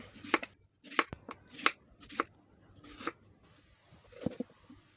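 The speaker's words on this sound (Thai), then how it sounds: "ต่อไปเราก็จะมาสไลด์เป็นชิ้นนะคะ" A knife slices a large wax gourd into pieces on a cutting board for a sweet candied dessert, giving about seven crisp, close cutting thuds in a steady, unhurried rhythm.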